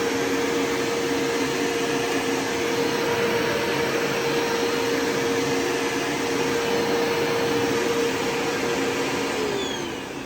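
A Bissell carpet shampooer runs with a steady, loud suction roar and a constant motor hum for about ten seconds while picking up water on a workbench, close up, with no talking.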